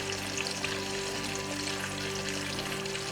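Chicken pieces frying in oil in a pan for a homemade fried chicken sandwich, giving a steady, dense sizzle that holds at an even level throughout with no talking.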